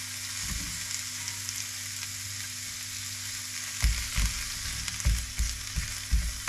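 Onion half-rings frying in a hot pan for liver Berlin style: a steady bright sizzle runs throughout, joined near the end by several louder clattering stirs or scrapes.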